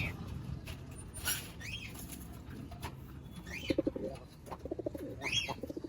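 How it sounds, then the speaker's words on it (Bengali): Rhythmic cooing of Army Silver pigeons in short pulsed bursts, fairly close, over a busy backdrop of chirping birds and rustling. "খুব সুন্দর একটা মাদি কবুতর"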